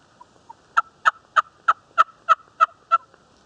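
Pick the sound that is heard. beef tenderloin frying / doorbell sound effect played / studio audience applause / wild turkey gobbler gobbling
wild turkey gobbler gobbling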